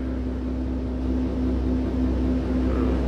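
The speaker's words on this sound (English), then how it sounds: "Playing the car moving sound" Car in Sonic Adventure DX making a steady low motor hum with a constant tonal whine, even and unchanging for a few seconds, no voices.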